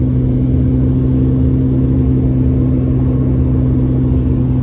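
A car climbing Highway 18 toward Big Bear, California, a steady loud engine drone and road rumble with a constant low hum and no change in pace.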